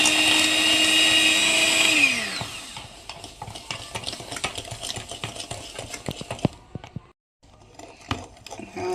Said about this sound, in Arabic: واحط عليهم كوبايه سكر، بضربه بالمضرب كويس.